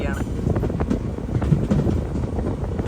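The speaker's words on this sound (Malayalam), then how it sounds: "കോട്ടയം റെയിൽവേ സ്റ്റേഷനിലേക്ക് നമ്മുടെ ട്രെയിൻ ഇത് എത്തിക്കൊണ്ടിരിക്കുകയാണ്." The Malabar Express pulls into Kottayam railway station, heard from on board as a low, steady rumble mixed with wind buffeting, with faint voices in the background.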